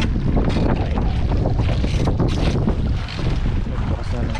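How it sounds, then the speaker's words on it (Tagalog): Strong wind buffets the microphone in a constant loud roar, with gusty surges and a rushing, turbulent texture throughout. "lakas pa rin ang hangin"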